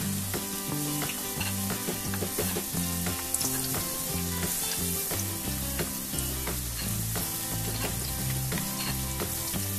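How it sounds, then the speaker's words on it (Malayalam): Spoonfuls of taro-leaf batter for chembappam fritters frying in hot oil, giving a loud, continuous bubbling sizzle with occasional crackles and light stirring clatter, close and unbroken with no voices. "ഓരോ ടേബിൾ സ്പൂൺ വീതം ഇട്ട് നമുക്ക് ഫ്രൈ ചെയ്തെടുക്കാം"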